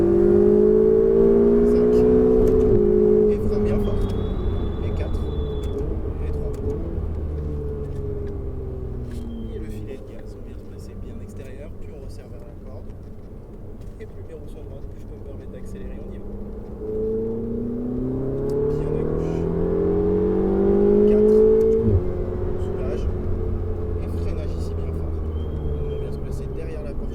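A car laps a race track, its engine rising and falling as it accelerates, shifts and brakes through corners, a steady close rumble with people talking over it throughout.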